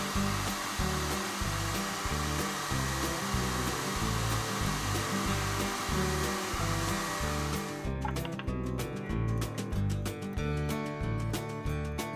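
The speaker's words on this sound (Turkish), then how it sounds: "Bu sırada önce bir fön çekelim." A hair dryer in a pet grooming and manicure video game blows with a steady, loud whooshing hum, accompanied by a rhythmic musical backing throughout, with the airy hiss cutting off near the end.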